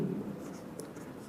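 Marker or chalk writing on a board during a physics lesson on the magnetic field of a long straight wire, a soft continuous scratchy rubbing that runs steadily throughout, fairly quiet and close, with no speech over it.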